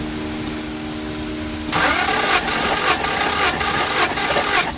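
A 1998-2002 Honda Accord engine cranks loudly and steadily for a compression test on cylinder 4, the starter churning in a regular rhythmic pulse after a brief quiet lead-in.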